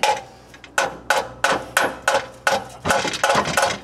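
A hammer taps a front end part on a 1976 GMC Motorhome, about ten sharp metallic knocks in a fairly even rhythm, close and distinct with brief gaps between blows.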